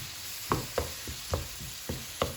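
Bell peppers sizzling in a pan while being stirred, with a soft frying hiss under sharp utensil scrapes and clicks about every half second.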